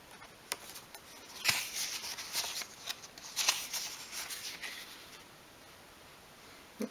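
Scissors snip through paper, cutting out printed pictures for a 1/12 scale miniature shop, with quiet close rustling and a series of short crisp cuts.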